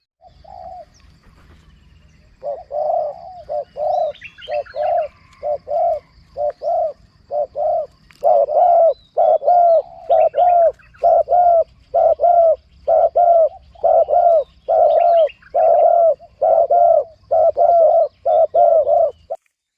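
A spotted dove coos in repeated rhythmic phrases, soft low hoots that grow steadier and louder, with faint chirps from other birds in the background, in high mountain forest.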